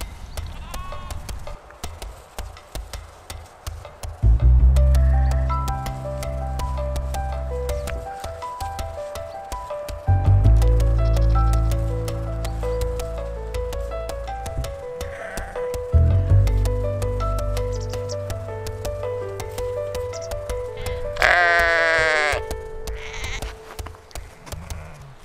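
Sheep bleat in a snowy winter pasture: several loud, drawn-out bleats come close by, spaced a few seconds apart, with a higher, shakier call near the end.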